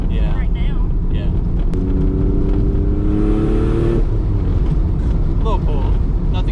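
A twin-turbo Mitsubishi 3000GT VR4 gives a brief, light pull from inside the cabin, its engine note rising for a few seconds under steady road roar with no talking.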